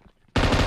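Automatic gunfire in a shooting video game, a sudden loud sustained burst of rapid shots that starts abruptly after near silence and fills the rest of the moment.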